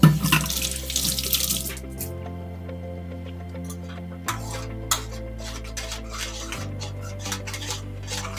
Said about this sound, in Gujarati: બાઉલ ધોઈને પાણી અંદર થોડુંક નાખી દઉં છું